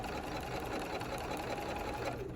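A sewing machine stitches fabric binding with a continuous, fast mechanical whir at moderate volume, steady and alone.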